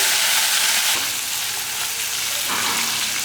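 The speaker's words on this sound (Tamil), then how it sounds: "இதில் ஒரு பாதி சிட்டிகை அளவுக்கு மஞ்சள் தூள் எல்லாம் சேர்த்துட்டு நல்லா வதக்கிக்கலாம்" Onions sautéing in a pan with salt and turmeric for a Tamil kuzhambu give a loud, steady, close hiss of frying that barely changes, with a slight dip midway and no voices.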